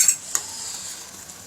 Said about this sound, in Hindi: हिलाएं इसे अच्छी तरह।